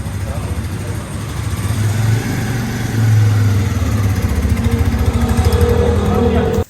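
A Suzuki GS 150 motorcycle engine runs steadily while being ridden, a loud continuous throbbing drone heard up close that holds without a break until the sound cuts off at the end.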